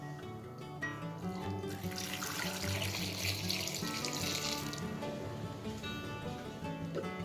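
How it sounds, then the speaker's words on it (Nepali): Water is poured into a pot of green corn for boiling, a steady, soft splashing stream that runs throughout beneath quiet background music. "लगभग यति मकैमा मैले 1 लिटर पानी हाल्दैछु।"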